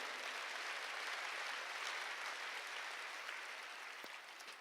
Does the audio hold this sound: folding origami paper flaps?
no